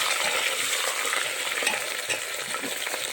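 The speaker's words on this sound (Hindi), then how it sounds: "इसमें अब हम हमारा जो मटन है उसको हम डालते जाएंगे। देखिए इस तरह से हम डाल देंगे। डाल करके इसको हल्का सा चलाते जाएंगे।" Mutton pieces fry and sizzle in a pan with golden onions while being stirred, a continuous close crackle with soft scraping strokes throughout and no voices.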